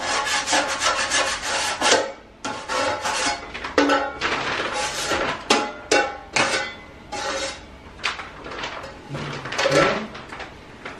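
A drywall knife spreads joint compound in a skim coat over patched sheetrock, with repeated loud scraping strokes in a steady back-and-forth rhythm, close up and without talk.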